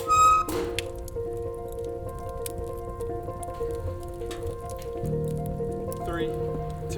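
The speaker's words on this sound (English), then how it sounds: "And it's raining as well, which is quite fitting" Steady rain patters and drips outdoors in a very rainy European city, a continuous soft wash heard beneath a sustained voice or tone throughout.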